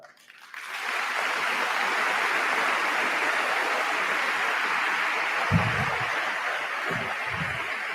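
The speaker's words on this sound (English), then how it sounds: "may I please ask, as a thank you, an applause for yourself" Audience at a large European right-wing political rally breaking into applause, rising quickly to a sustained, steady wash of clapping from a big crowd, with a few low thumps near the end.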